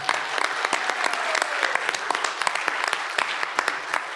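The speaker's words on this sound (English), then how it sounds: "Can we just all applaud for my dear friend Fran right there?" Audience clapping at a fan convention Q&A panel for The Orville at Farpoint, dense and sustained for several seconds with sharp individual claps standing out, a faint voice briefly under it.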